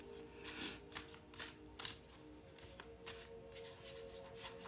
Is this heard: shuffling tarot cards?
yes